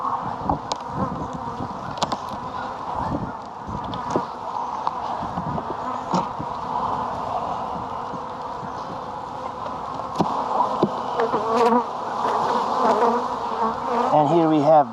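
Dense, continuous buzzing of many honey bees inside a hive, up close, with occasional soft knocks and rustles.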